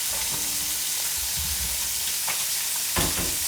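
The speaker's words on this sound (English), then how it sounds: "you should instantly see them popping and hear a sizzle" Loud continuous sizzling and frying of Padron peppers in a hot pan, with occasional pops and stirring scrapes, no talking.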